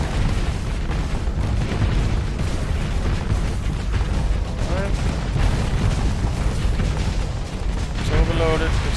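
Starsector space combat, with a ship exploding and taking another ship down with it: continuous heavy rumbling booms and blasts under dense battle noise, loud and unbroken, with brief chirping tones near the middle and end.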